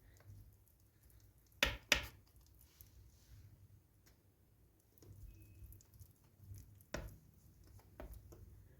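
A knife cuts through tray kebab, Hatay style, in a baking tray, giving a few sharp knife strikes with quiet gaps between them, faint and close.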